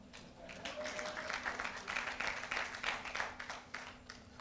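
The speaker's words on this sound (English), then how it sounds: "Just like I want you to clap for me now." An audience at an International Human Rights Week event applauds a speaker, with faint, steady clapping heard from a distance for a few seconds.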